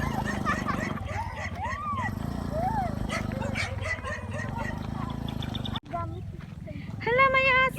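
A dog barks a few times at a distance outdoors at the Mini Chocolate Hills in Umingan, Pangasinan, with people chatting and moving around nearby, and a sharp rustle near the end.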